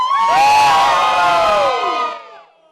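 A crowd of students cheers and shouts at a Student Day event, a loud, sustained burst of whoops and high voices that carries for about two seconds before fading quickly.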